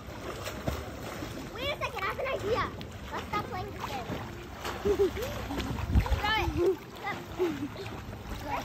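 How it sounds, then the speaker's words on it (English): Water splashes and churns in an outdoor resort swimming pool at a Holiday Inn as people swim, with a child and an adult talking and calling out over the steady splashing. "And we're going in the pool, swimming."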